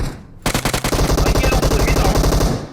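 FAMAS assault rifle fired in the mobile game PUBG Mobile, a loud, close rapid burst of evenly spaced shots lasting over two seconds after a brief quieter lead-in.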